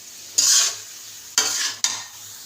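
Adadiya flour roasts in ghee in a pot and is stirred slowly in three separate scraping strokes, each a bright hissing swish over quiet low sizzling, with no talk.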